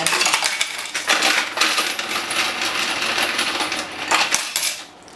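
A EUROX 520 coin counting machine runs through Thai coins, producing a steady, rapid metallic clinking and rattling for several seconds before tapering off near the end.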